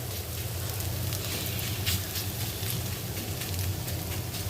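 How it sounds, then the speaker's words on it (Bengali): An egg frying in a pan gives a steady sizzle and crackle from start to finish, close and fairly loud, with no speech over it. "আগে হচ্ছে আমি ডিমটা ভেজে নিই, তারপর হচ্ছে মশলাগুলো দিয়ে কষাবো"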